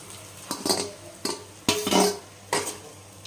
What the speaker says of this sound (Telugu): రైస్ వేసుకొని మిక్స్ చేసుకున్నాం.